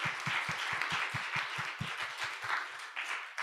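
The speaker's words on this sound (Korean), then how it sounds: "저희 큰 박수로." A congregation at a church youth service gives warm, continuous applause with a few louder rhythmic claps mixed in, lasting about three seconds before fading.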